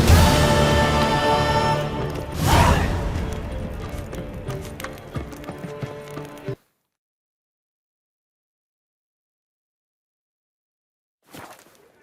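Hooves of the horse Roach pounding in a gallop in The Witcher 3: Wild Hunt, loud and dense under game music and effects, cutting off abruptly into silence before a brief final burst.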